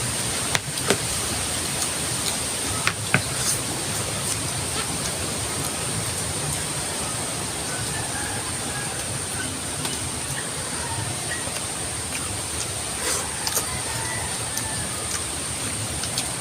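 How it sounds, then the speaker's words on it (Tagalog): Heavy rain falling steadily, a dense continuous hiss like rushing water that stays even and close throughout, with no talk over it. "Lakas na mga ulan."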